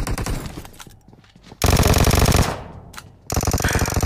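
Rapid bursts of automatic gunfire from a Vector gun in a video game, loud and close, with a short pause between the two long volleys.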